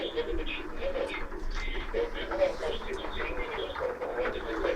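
Soft homing pigeon cooing repeats in short phrases amid a steady outdoor hum and muffled background voices.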